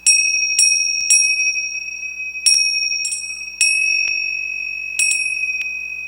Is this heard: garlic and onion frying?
no